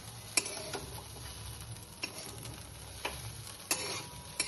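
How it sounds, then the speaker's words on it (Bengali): A spatula scrapes and stirs through fish oil and roe frying in a pan with cumin and chili powder, a soft sizzle under it and occasional sharp clicks of metal on the pan. "ভালোভাবে নেড়ে চেড়ে নেব।"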